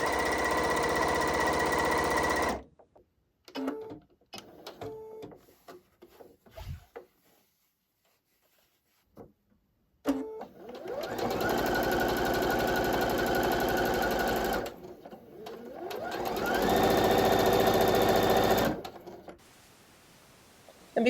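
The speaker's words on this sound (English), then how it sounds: "And now I just need to sew a 1/4 inch on both sides of the line" Sewing machine stitching quarter-inch seams on quilt fabric, fast mechanical whirring in several bursts of a few seconds each, separated by quiet pauses with light handling noises.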